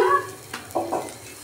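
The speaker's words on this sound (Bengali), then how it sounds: "এখন আমি চুলায় নিয়ে ভেজে নেব।" Roti flatbread frying in a pan on the stove, with a soft sizzle and a few brief scraping stirs, close and moderately loud, with no talk.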